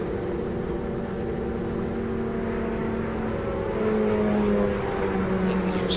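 A driverless race car from the Indy Autonomous Challenge passes on the track with a steady engine drone, and the pitch climbs and swells a little near the end as it goes by.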